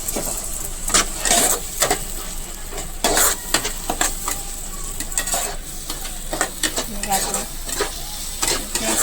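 Ginger-tomato gravy sizzles in a pan while a spoon stirs it, sending repeated scraping strokes and bursts of crackle over a continuous frying hiss, close and fairly loud.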